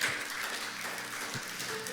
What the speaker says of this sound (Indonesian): Mana tepuk tangannya buat Tuhan.